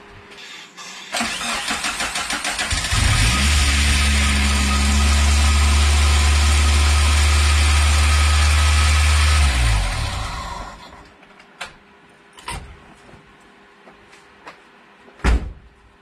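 A replacement 2.0 engine in an overland Geo Tracker cranks over and fires, idling loudly and roughly for several seconds before shutting off, followed by a few scattered clanks and knocks nearby.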